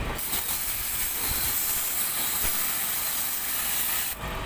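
Water spray jet blasting steadily onto an air conditioner unit during cleaning, a loud continuous hiss that runs unbroken and cuts off abruptly near the end.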